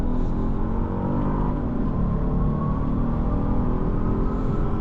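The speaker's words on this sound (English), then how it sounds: "Nice acceleration, and the engine sounds great." A Genesis GV80 3.5T Prestige engine pulls steadily under acceleration, a continuous low rumble with a rising tone heard from inside the cabin, no talk.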